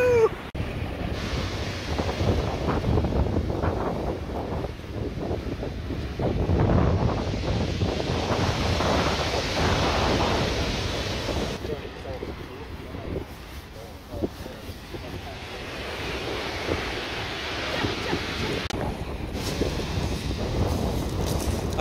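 Ocean waves and strong wind on Brighton beach, a continuous roar of surf with heavy gusts buffeting the microphone, close and loud throughout, with people talking over it.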